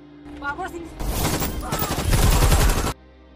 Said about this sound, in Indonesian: Ketika melihat musuh, Asena langsung membidiknya dan menghabisi mereka.